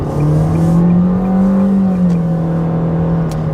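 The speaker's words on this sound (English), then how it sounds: "as you may hear, you know, because of that CVT, this thing makes a lot of noise. You know, when you're revving it" A Nissan Versa with a CVT transmission revving, a loud, steady droning whine that climbs slightly and settles, heard close up and without talk.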